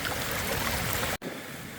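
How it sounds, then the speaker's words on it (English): Rainwater cascading down a hiking track on the West Highland Way, a loud continuous rushing wash, briefly cut off near the end before resuming. "the water is just cascading down the track"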